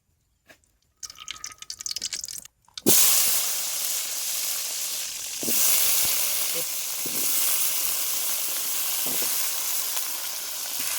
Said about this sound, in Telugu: వంకాయలు బాగా నూనెలో వేయించుకుందాం